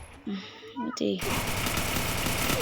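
A voice speaks briefly before a rapid, dense burst of automatic gunfire erupts in a video game and continues loudly to the end.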